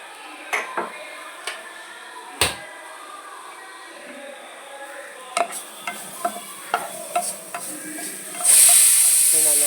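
Cumin seeds dry-roast in a pan while a utensil stirs them, making sharp scraping clicks at irregular intervals over a faint crackle, then a louder hiss near the end.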